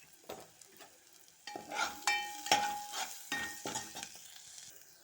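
Ginger, garlic and turmeric fry with onions in a pan, giving a soft crackling sizzle broken by a few louder stirring scrapes and clinks over about five seconds, close by and with no talk.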